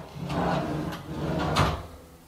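A drawer of a small IKEA drawer unit slides open and shut in a renovated basement, with a few soft rolling runs and light knocks close by.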